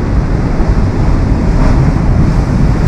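Stormy sea surf pounds the beach at Flamingo in Lazarevskoye in January, a loud, continuous roar of breaking waves mixed with heavy wind rumble on the microphone, with no voices.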